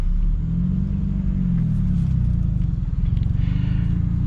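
A Hyundai Elantra N pulls away and drives on, its engine a steady, loud, low rumble heard from inside the cabin, with pulsing throb as it gets moving.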